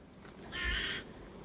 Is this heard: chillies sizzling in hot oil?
no